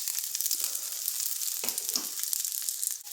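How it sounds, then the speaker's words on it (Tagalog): Garlic and onion sauté in oil left over from frying potatoes, giving a steady, close crackling sizzle with a few stirring scrapes. "doon na din natin gigisa ang ating bawang at sibuyas"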